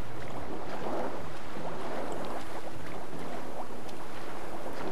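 Murky underwater ambience in The Witcher 3, a low churning, bubbling wash of water with faint wind-like hiss, steady and unbroken for several seconds with no one speaking.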